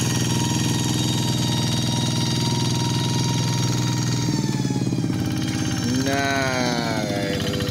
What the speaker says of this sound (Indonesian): Video kali ini biasa tonton traktor sawah.